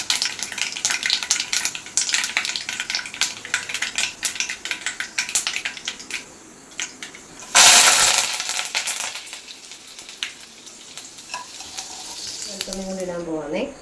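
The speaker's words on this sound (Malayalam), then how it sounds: "ഇനി കരിവേപ്പില ഇടാൻ പോവാണ്" Curry leaves dropped into hot oil with already-popped mustard seeds in a home kitchen crackle and sizzle loudly and close. A sharp burst of spitting marks the moment they hit the oil, then the frying settles to a busy crackle.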